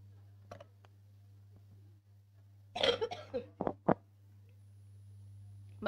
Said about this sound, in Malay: Maaf, tengah batuk seketika.